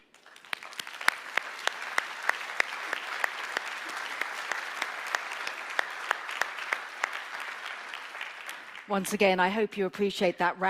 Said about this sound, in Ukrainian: Ще раз я сподіваюся, що ви почули ці аплодисменти.